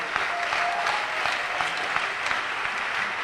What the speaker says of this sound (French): on va acclamer Dieu encore fortement